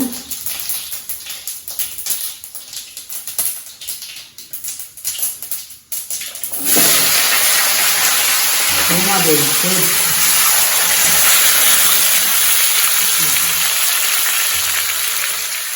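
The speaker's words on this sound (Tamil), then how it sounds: "கடுகு நல்லா பொரிய விட்டுடுங்க" Mustard seeds splutter in hot oil for a potato curry, a loud steady hiss of crackling and popping that starts abruptly after a stretch of quieter kitchen noise and continues unbroken to the end.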